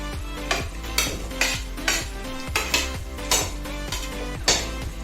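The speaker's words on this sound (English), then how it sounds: "Just mix the onion slightly." Onion being stirred with cumin seeds in a hot pan, with repeated scraping strokes of a utensil against the metal roughly every second over a low steady sizzle, close and fairly loud, no voices.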